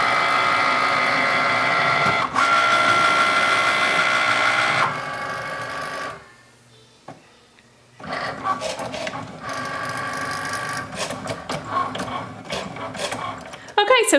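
A Cricut Maker cutting machine slicing vinyl on its mat, giving a close mechanical whirring and clicking of the carriage and rollers, pausing briefly near the middle before resuming with busier ratcheting movements.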